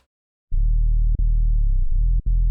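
Pure sine-wave bass from a Serum synth patch with soft-clipping distortion, a loud steady low tone sustained across the clip with a few brief pitch-bend blips and dropouts, no voices.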